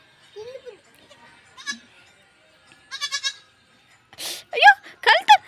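A young goat kid bleats while playing with a child, giving several short, high bleats close by, with the last ones louder, amid bursts of voices.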